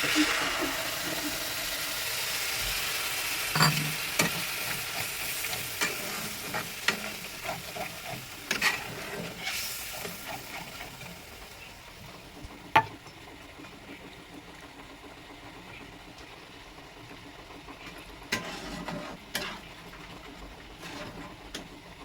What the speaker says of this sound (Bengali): আমি এবার নারকেল আর পোস্ত বাটাটা দিয়ে দেবো।